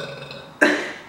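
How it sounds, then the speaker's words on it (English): A single loud, abrupt burp erupts at close range after a brief quiet lull, then tails off over the final half second, with no talking. "I need a burp."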